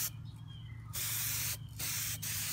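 A spray can mists paint onto plastic Sith lightning in a few short, close bursts of airy hiss separated by brief pauses.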